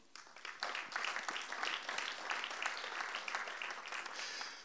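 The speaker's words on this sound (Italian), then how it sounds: "Un applauso." Applause from an audience at an awards presentation, a steady wash of many hands clapping that starts abruptly and holds at even strength throughout, fairly quiet and somewhat distant, with no voices over it.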